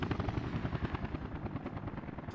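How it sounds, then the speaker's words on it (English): Helicopters in the city-building game Workers and Resources thump with a rapid, steady rotor beat and a low engine drone, loud and close throughout. "I like the sound of helicopters, but they're loud and they're right in my ear the whole time"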